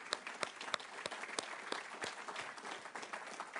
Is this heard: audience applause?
yes